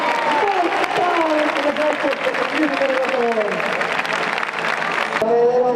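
Audience applause fills the bullring at a contest for young up-and-coming recortadores in a bull-leaping event, a steady, dense wash of clapping heard throughout while an announcer keeps talking over it.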